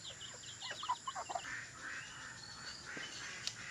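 Ducks in a pen at feeding time give faint, scattered quacks and calls over a steady hiss of background noise, with no one talking.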